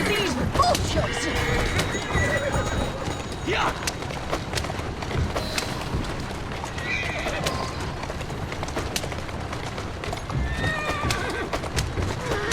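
In the video game Assassin's Creed Syndicate, a horse neighs loudly while hooves clip-clop in a quick, galloping rhythm, mixed with occasional thuds and clatter, close and continuous.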